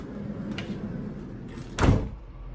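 Side door of a Fiat Ducato motorhome with a fly screen fitted, sliding shut with a soft rumble and ending in one solid thud near the end, fairly quiet and close.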